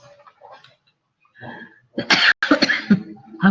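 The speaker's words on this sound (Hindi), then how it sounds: "आपको मेरी खांसी की आवाज आई है?" A few harsh coughs burst out close and loud, preceded by softer breathy sounds and muffled throat noises.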